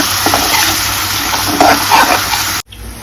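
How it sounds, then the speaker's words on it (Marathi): Ginger garlic paste sizzling in hot oil while being stirred, heard as a loud, close, continuous hiss with scraping stir sounds, cut off abruptly near the end. "याच्यामध्ये तेल टाकतो परत त्यानंतर तेल टाकले आता त्याच्यानं अद्रक लसूण पेस्ट टाकते परत त्याला मिक्स करून द्यायचं"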